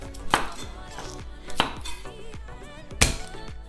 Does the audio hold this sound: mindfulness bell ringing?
no